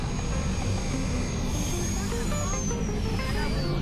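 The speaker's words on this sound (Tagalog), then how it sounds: "Kada rin aeroplano." An airplane passes near Clark with a steady, loud engine roar and a rising then falling whine, heard up close over outdoor noise.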